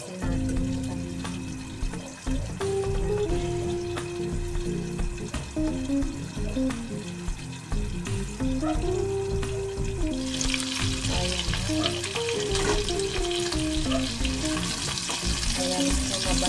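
Chicken skins sizzle and fry steadily in a pan as their fat renders out, a loud continuous crackle throughout, with a brighter hiss rising toward the end; no talking.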